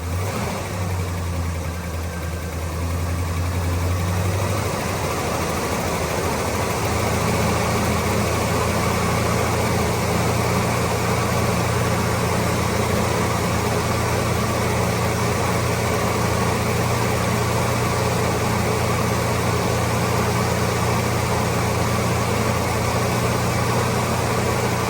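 A 1972 Chevrolet Nova engine drones steadily nearby, stepping up to a higher, held RPM after a few seconds and staying loud and even throughout.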